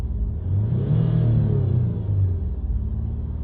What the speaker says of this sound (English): Give it a few accelerations up and down to get it to clear